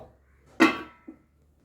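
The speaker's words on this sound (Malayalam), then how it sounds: "അപ്പോൾ നമ്മൾ കറി മൂടി വെക്കുകയാണ് കേട്ടോ" A lid set onto a pot of chicken curry with potatoes, a single soft clank followed by a faint second touch, close and alone.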